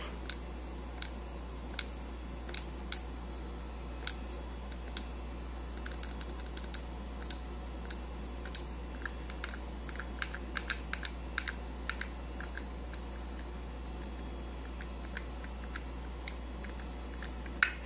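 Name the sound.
pressing buttons on a 1996 ATI capture setup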